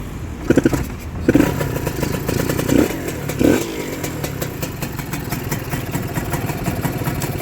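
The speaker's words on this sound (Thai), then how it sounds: "มาฟังเสียงสตาร์ทติดง่ายครับ" A Honda NSR motorcycle engine cranks and catches, then settles into a steady, clattering idle close by, with a few revs early on.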